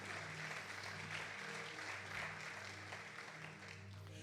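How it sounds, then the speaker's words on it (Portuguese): A church congregation applauds during a family worship service, making continuous, moderately distant clapping that holds steady for several seconds with no talking over it. "Você pode aplaudir o Senhor? Faça isso com alegria."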